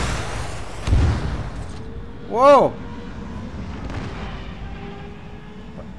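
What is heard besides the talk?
gunfire and explosions under attack in video game ArmA 3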